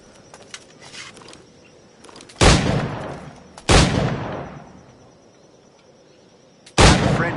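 Three loud, sharp gunshots ring out from a period firearm in Assassin's Creed Black Flag, each decaying into a short echo, spaced irregularly over quiet ambient background.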